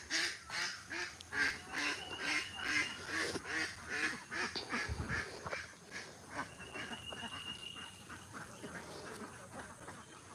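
Ducks quack repeatedly in a busy, rhythmic chorus, fairly close, with outdoor background noise and no one speaking.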